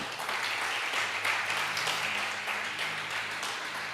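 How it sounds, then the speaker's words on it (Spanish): A church congregation gives a dense, steady round of applause that holds at an even level, with faint voices mixed into the clapping. "Denle un aplauso al Señor"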